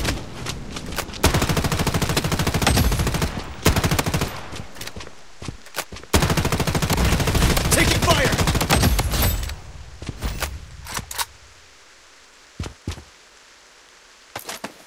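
Bursts of automatic gunfire from the mobile shooter Project Bloodstrike, loud sustained volleys broken by brief pauses, then fading to scattered isolated shots near the end.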